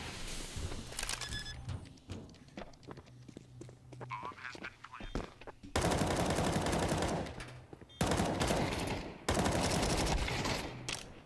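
AK rifle fire in Counter-Strike, a competitive pro-league match, comes as several sharp bursts of automatic shots, close and loud, with footsteps between them and a commentator talking over the action.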